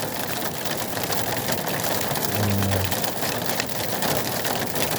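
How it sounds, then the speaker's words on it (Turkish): Rain mixed with hail beats down without pause at a picnic spot in Izmir, a loud continuous patter and hiss, with a brief low hum partway through. "Şu an sadece yağmur gürültüsü ve yağmur var arkadaşlar. Tolu yağdı ve devam ediyor."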